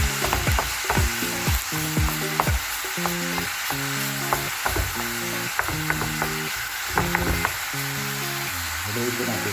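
Ground pork frying and being stirred in a pan, with a loud continuous sizzle and steady clicking strokes of the utensil, while music plays throughout.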